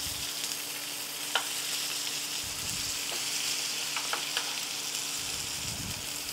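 Venison steak frying in a hot pan, a soft steady sizzle with a few clicks of a turning tool against the pan, fairly quiet and close, no talking.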